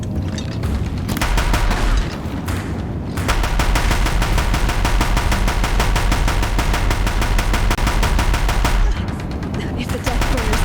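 Sustained, dense machine-gun fire from Deathbringer machines in the video game Horizon Zero Dawn, rapid rounds hammering without letup for nearly the whole stretch, loud and close with heavy booming underneath.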